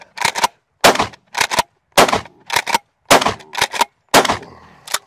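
A Rock Island All Gen 12 budget shotgun fires outdoors in a quick string of about ten sharp, loud blasts, spaced in uneven groups, with no talk.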